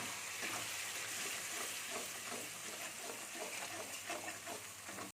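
Ground spices stirred in a pan for raw banana kofta curry, a steady sizzle of frying with soft, regular scraping strokes of a spoon, close and continuous.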